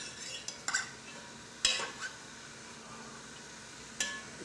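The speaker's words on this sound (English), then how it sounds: "Then I put some celery, a cup of celery, chopped celery. And I stir. You hear that pot, don't you?" Chopped celery is stirred in a pot, giving a few sharp utensil scrapes and clanks against the metal at irregular intervals over a faint steady sizzle, with no one talking.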